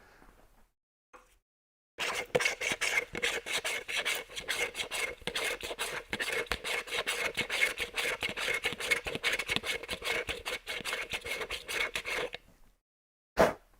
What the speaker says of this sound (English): So I'm scraping the cup out just to get the little chunkies off the side.